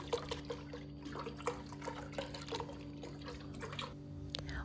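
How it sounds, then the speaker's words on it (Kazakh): Milk poured from a container into a cooking pot in a home kitchen, ready for boiling: a faint, steady liquid trickle with small drips and splashes, fairly quiet and with no one talking. "Сол үшін осындай қазанымызға сүтімізді құйып аламыз."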